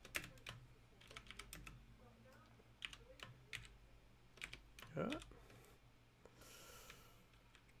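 A computer keyboard clacks in irregular bursts of keystrokes, fairly close and quiet, with some breathing and a sniff among the taps.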